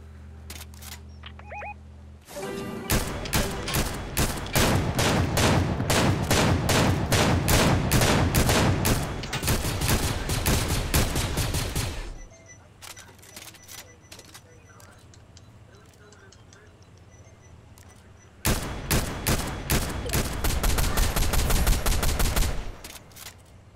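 Rapid gunfire in the Fortnite battle royale comes in two long, loud bursts of fast repeating shots, separated by a quieter stretch with occasional clicks and players talking.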